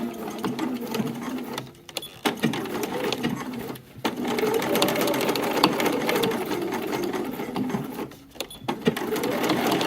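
Sewing machine top-stitching through fabric to catch pinned-in elastic on a scrap-fabric catch-all bag casing, a steady close whirring run with two brief pauses.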